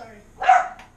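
A single short dog bark, moderately loud, sounds from nearby in a home kitchen where table tennis is being played.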